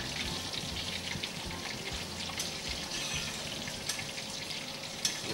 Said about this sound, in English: You have to take some time deep frying it